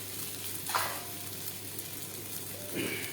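Peas and fennel shami kebab shallow frying on a tawa, a steady soft sizzle with a couple of faint clinks or stirs, close and continuous, no voices.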